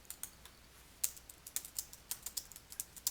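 Quick, light keystrokes on a computer keyboard while notes are typed into a meeting page, in an irregular rhythm of soft, close clicks with no talking.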